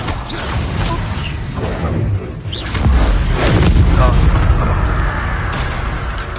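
An Expelliarmus spell is cast in Hogwarts Legacy, producing loud, rumbling magical blasts and booming impacts that swell and sustain in a dense, continuous wash of combat noise.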